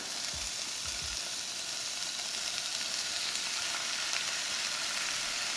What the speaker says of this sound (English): We love to hear that sizzle.